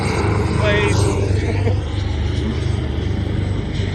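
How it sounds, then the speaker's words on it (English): A helicopter passes overhead outdoors on a beach, a loud low rotor drone and engine rumble that fades gradually across four seconds while a person speaks briefly over it. "Oh, we've got a helicopter."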